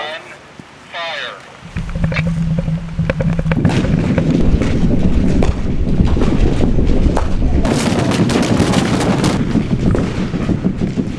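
A controlled blasting charge goes off during a ground improvement trial on soil liquefaction: a voice first, then a sudden heavy boom that rolls into a long, loud, sustained rumble and crackling debris.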